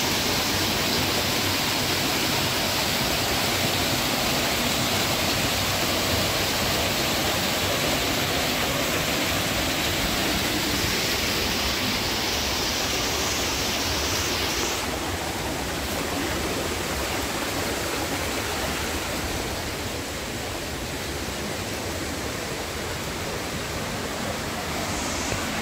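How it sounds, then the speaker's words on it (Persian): Semirom waterfall in Isfahan Province, Iran, water pouring down through a rock crevice, forming a loud, unbroken hiss and rush that fills the whole span without pause, close and even throughout. "این آبیه که تبدیل میشه با آبشار سمیرون و از اون شکاف میریزه پایین"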